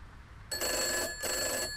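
A telephone rings nearby with two shrill electronic bursts, each about half a second long with a short gap between them, sounding alone over a faint background hiss.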